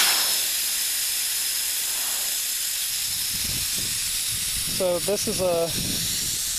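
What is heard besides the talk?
air hissing out of a tire valve stem, core removed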